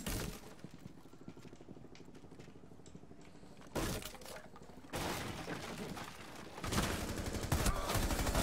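Automatic rifle fire in Rainbow Six Siege with an M4, dense rapid bursts that swell louder in the later stretches, fairly close and with no talking over them.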